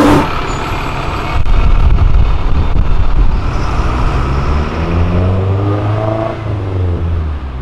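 A Honda Fit engine revs hard and loud up close, its pitch climbing and sweeping upward with a rough, throaty tone before easing off near the end.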